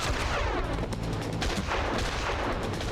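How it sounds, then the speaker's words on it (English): Dense shotgun blasts in the crime shooter game Made Man, loud overlapping shots in quick succession with a continuous roar of gunfire and no talk. "Are they gonna only give me shotguns for this level?"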